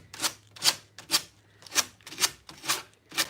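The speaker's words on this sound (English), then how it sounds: "I'm just going to go ahead with my sandpaper and see if I can" Sandpaper rubbed along the edge of a decoupaged piece, seven or eight even rasping strokes in a steady back-and-forth rhythm, close and clear with short quiet gaps between them.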